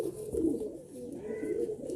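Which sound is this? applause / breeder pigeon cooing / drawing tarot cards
breeder pigeon cooing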